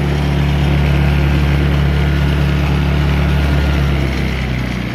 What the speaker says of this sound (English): I've been idling it up and idling it down for the past 20 minutes.